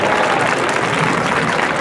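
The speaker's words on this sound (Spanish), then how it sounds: "Un fuerte aplauso para ellos" An audience at a folk festival breaks into loud, dense applause, continuous clapping from a large crowd throughout the short stretch.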